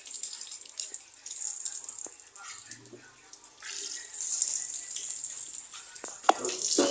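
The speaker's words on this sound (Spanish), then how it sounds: "Ahí le están echando agua." Water is poured and splashed while a stove is washed, an irregular series of faint-to-moderate splashes and trickles that grows louder toward the end, with a brief voice in the background.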